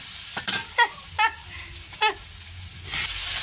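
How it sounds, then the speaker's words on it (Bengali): Onions frying in a pan for a beef tripe dish, giving a steady, close sizzle with a few short scraping, chirping stirs over it and a brief rise in hiss near the end. "পেঁয়াজ ভালো করে আগে ফ্রাই করে লাইতে"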